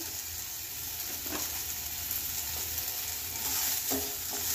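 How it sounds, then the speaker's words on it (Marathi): Green chilli and asafoetida sautéing in a hot pan, a steady close sizzle with occasional soft stirring scrapes and no voices. "हिंग चांगला परतून घेऊया।"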